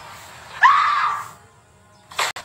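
A woman with a bruised face screams suddenly after picking up a ringing telephone, a sharp, loud high cry lasting about half a second and then fading, followed by a brief noisy burst.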